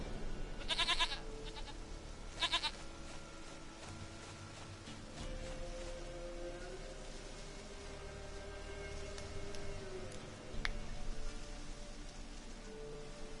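Goat bleats in The Witcher video game, a few short, nasal calls near the start then another around ten seconds, over a steady game ambience with a faint rain-like hiss beneath.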